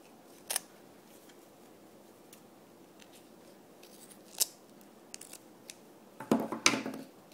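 Scissors snipping fiberglass tape for a Turnigy 9X transmitter battery modification, a few sharp isolated cuts spread apart and then a quick rapid burst of snipping near the end, close up over quiet room noise.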